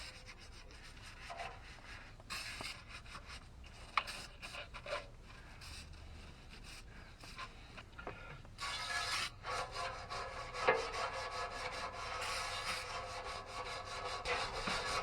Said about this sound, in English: this time I'll go over it with my old parts cleaning brush here